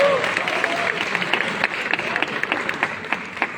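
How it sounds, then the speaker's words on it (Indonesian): An audience at an Indonesian parenting event applauds a guest being welcomed to the stage, scattered clapping rising and falling over a murmur of the crowd, with a voice briefly heard over it. "Kita beri tepuk tangan"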